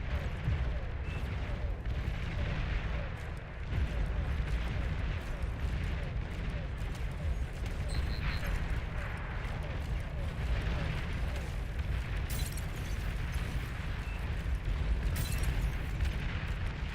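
A commander unit exploding in the strategy game Beyond All Reason, amid continuous heavy booms and artillery-like blasts. Dense battle noise stays loud throughout, with sharp bursts breaking through.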